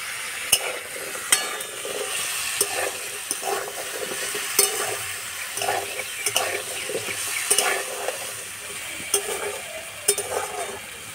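Mixed vegetables for a simple Ekadashi dish frying in a pan, a continuous soft sizzle broken by regular scraping and tapping strokes of a stirring spoon, close up and with no voices.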